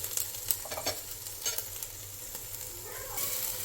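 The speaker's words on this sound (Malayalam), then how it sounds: "അതിനുശേഷം നമ്മുടെ കറിവേപ്പില ഇടാവുന്നതാണ്." Curry leaves dropped into frying onions for chicken perattu, a soft, steady sizzle with a few sharp crackles and stirring scrapes nearby, no voices.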